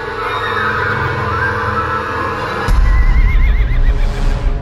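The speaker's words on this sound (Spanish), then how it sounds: "los caballos coceaban y relinchaban con creciente frenesí" Horses neighing and kicking in frenzy, a dense rumbling layer of sound with a sudden heavier surge midway and a high whinny rising over the din, loud throughout.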